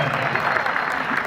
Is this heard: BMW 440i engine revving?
no